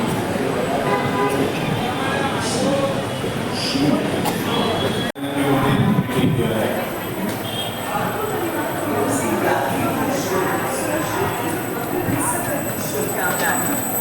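A passenger train pulling in at platform 1 of Raipur Junction railway station: a loud, continuous rumble of rolling wheels and carriages with squealing and clanking, while voices or an announcement carry over the din throughout.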